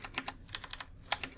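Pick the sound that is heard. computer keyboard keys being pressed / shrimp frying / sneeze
computer keyboard keys being pressed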